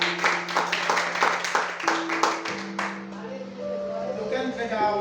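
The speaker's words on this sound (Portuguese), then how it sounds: "Você pode aplaudir a Deus." A church congregation claps in praise to God, a quick run of sharp hand claps that fades out after a few seconds while music holds a sustained tone underneath.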